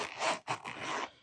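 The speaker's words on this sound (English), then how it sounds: "And the zipper is thick." A thick YKK zipper with a leather pull runs along a very soft real-leather journal cover in two quick, close rasping strokes separated by a brief pause.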